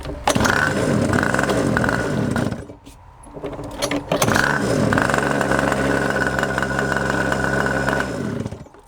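Homemade go-kart engine running loud and close, with raspy revving that cuts out briefly near the middle and then picks back up to a steady drone.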